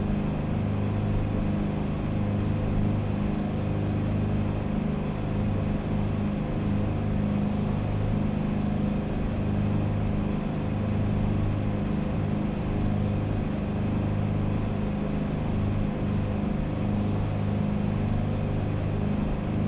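A steady, droning piston engine of an H36 Dimona motor glider in a flight simulator game, running continuously and fairly loud with a low, throbbing hum and no talk.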